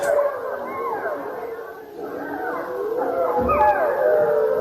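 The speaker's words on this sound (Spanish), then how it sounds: "son lobos de los Apeninos, no muy lejos de Roma" Apennine wolves howl not far from Rome on a spring night, several long, wavering overlapping howls carrying steadily at moderate distance, with a few yips mixed in.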